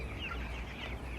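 Eighteen-day-old chickens on a poultry farm cluck softly in a short, faint burst of overlapping calls against a low background hum.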